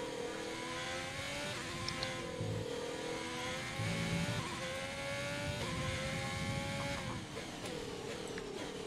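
A race car in the F1 2020 game at Spa, Belgium, in qualifying, its engine whining and shifting pitch as it runs, sustained and fairly loud throughout with no talk.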